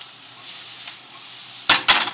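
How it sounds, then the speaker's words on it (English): Garlic goes into a hot pan with onions, salt and pepper, a soft steady sizzle rising as it lands, then two brief louder bursts of hissing and stirring near the end, with no voices. "Then you want to throw the garlic in"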